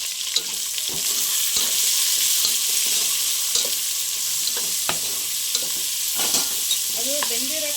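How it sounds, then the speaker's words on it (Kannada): Onions frying for a palya give a close, steady sizzle in a pan, with frequent scraping and tapping strokes from stirring and a brief squeaky scrape near the end. "ಈಗ ಈರುಳ್ಳಿ ಹಾಕ್ತೀನಿ. ಈರುಳ್ಳಿ ಹಾಕಿದಷ್ಟು ಟೇಸ್ಟ್ ಇರುತ್ತೆ ಪಲ್ಯ."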